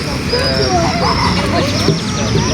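A pet dog yips and whimpers close by in a home, its excited high cries running steadily through a noisy room while people talk over it.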